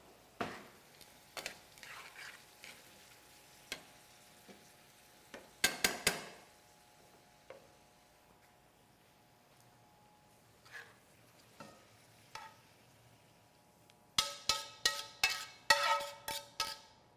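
Black garlic pappardelle being tossed and mixed into sauce, with quiet scraping and clinks of a utensil against the pan, including a clustered run of louder clinks near the end, between stretches of near silence.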